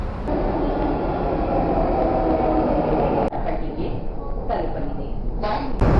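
A metro train rumbles steadily close by at a station on the second floor, with a brief clunk midway and hissing, shifting noise toward the end.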